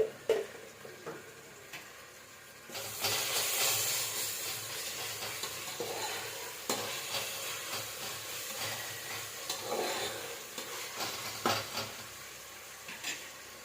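Ginger garlic paste frying in a pan for hotel-style mushroom biryani, a steady hissing sizzle with stirring, spoon scrapes and clinks against the pot, fairly quiet and close, with no talk.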